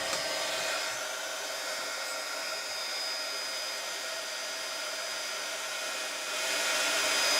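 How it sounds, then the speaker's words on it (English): A heat gun blows steadily while heat-setting embossing on a card: a loud, close, continuous whooshing roar that dips slightly partway through and rises again near the end, with no talking. "then we'll heat set that with the heat gun"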